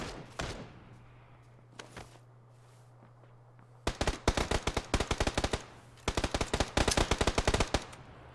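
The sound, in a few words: gunshots in a video game battle royale match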